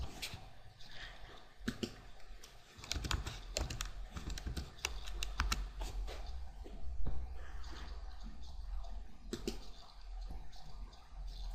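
A computer keyboard typed on in a steady run of light clicks, close by, followed by sparse single taps, with a constant background hum.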